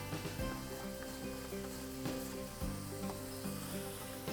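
Onions and garlic frying in a little oil at the bottom of a soup pot, producing a steady, close crackling sizzle with faint stirring, and no one speaking.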